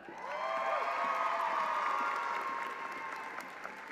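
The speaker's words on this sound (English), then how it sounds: "One more huge round of applause for Gilda, the Master of Science in Cell Biology and T" An audience at a university commencement ceremony applauds steadily for a few seconds. The clapping is fairly faint and distant in a large hall, with a few scattered whoops.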